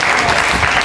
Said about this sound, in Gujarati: એમના માટે એકવાર જોરદાર તાળીઓ થઈ જાય.